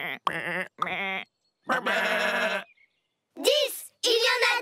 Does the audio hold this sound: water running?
no